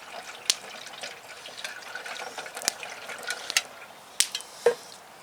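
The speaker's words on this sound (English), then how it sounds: "just gonna pour a little water in the tap" Cold water poured into a pot of boiled cowboy coffee, a soft liquid trickle with a few sharp drips and splashes scattered through it, close and fairly quiet.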